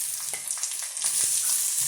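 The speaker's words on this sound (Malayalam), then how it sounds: "നമുക്കിനി ഇതിലോട്ട് ഈ വേവിച്ച് വെച്ച പടവലങ്ങ ജസ്റ്റ് ഒന്നിട്ട് ഇളക്കിയെടുക്കാം." Cooked ridge gourd is stirred into a hot, sizzling mixture in a pan while making ridge gourd chutney, giving a steady close frying hiss with soft, irregular stirring scrapes throughout.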